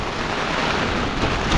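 Heavy rain pours on the Wangedigala mountain top at night, a dense, steady, close roar of falling water filling the short stretch without a break.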